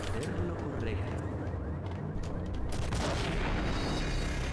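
Gunfire and an explosion in the Max Payne video game, a dense burst of shots and booming impacts filling the scene while someone talks over the action.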